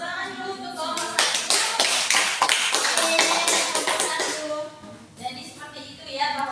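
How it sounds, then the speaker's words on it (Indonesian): Classroom students clapping for a group after its presentation in a biology lesson, a dense burst of many hands lasting several seconds and then thinning out, with a voice speaking over part of it. "Oke, kita kasih tepuk tangan dulu untuk kelompok 1."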